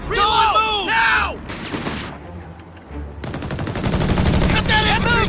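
Heavy machine gun team firing in the Company of Heroes 3 strategy game, long rattling bursts of rapid shots amid battle noise, with shouted soldier voices at the start and end.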